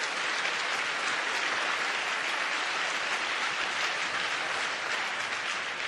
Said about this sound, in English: let's give all the teams a big round of applause